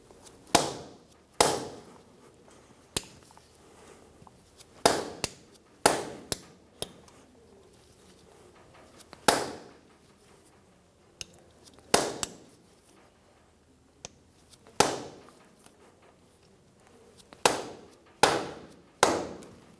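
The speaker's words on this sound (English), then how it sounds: "we're going to use a saw face mallet and tap the end of the half shaft" Dead-blow mallet tapping the end of a 2005-2010 Toyota Tacoma front CV axle half shaft, a series of sharp, close knocks in irregular pairs and singles with quiet pauses between, no talk.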